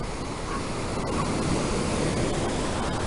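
Powerful river water rushes against a dam between artificial walls in Vietnam, a dense, constant roar filling the scene at close range.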